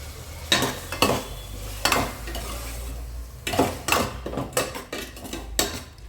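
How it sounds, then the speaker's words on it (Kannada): Salt and turmeric powder are fried and stirred in a pan with a soft sizzle, broken by repeated clinks and scrapes of a metal spoon against the pot in uneven bursts, close by, with no voices. "ಸ್ವಲ್ಪ ಅರಿಶಿನ ಪೌಡರು ಹಾಕ್ಕೊಂಡು ಇದೆರಡನ್ನೂ ಫ್ರೈ ಮಾಡ್ಕೋಬೇಕು."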